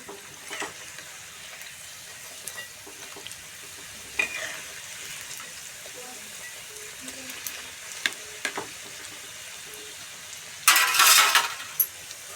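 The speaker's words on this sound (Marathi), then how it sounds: "असं तेलात घालून तर तळून घ्यायचं लालसर असं जास्त लाल मिडियम लालमध्ये गोल्डन कलरमध्ये" Sweet sugar-filled karanji pastries deep-fry in hot oil with a low, steady bubbling, occasional utensil taps and a brief loud crackle near the end.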